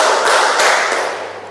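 A group claps the tepuk siang pattern, a short dense burst of many hands clapping together in a few quick accented groups, loud and close, then fading.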